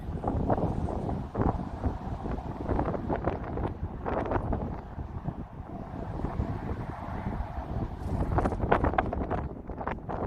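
Wind gusts buffet the microphone outdoors on a warm 80-degree day during horse training, a steady broadband rush with scattered sharp knocks and rustles throughout.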